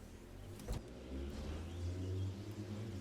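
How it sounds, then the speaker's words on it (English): A car passes on a road, a soft, distant engine rumble that swells gradually and lingers at low volume with no talking. "That's a car. I'm not sure if you guys heard that, but I'm obviously streaming right from the middle of the road here."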